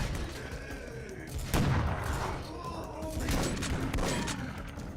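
Gunfire rings out in the video game E.Y.E. Divine Cybermancy, with a few sharp shots and bursts cracking over a busy, noisy background of combat sounds.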